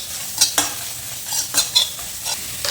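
Onions frying in mustard oil for a chicken gravy, an ongoing sizzle punctuated by repeated stirring scrapes at an uneven pace, close and fairly loud, no speech.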